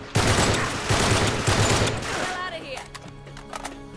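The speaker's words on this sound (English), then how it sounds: "I'm shooting this person with the shield in the legs, like, multiple times." Dense rapid gunfire from the Uncharted 3 video game fills the opening two seconds, loud and sustained, then gives way to quieter scattered game sounds and debris.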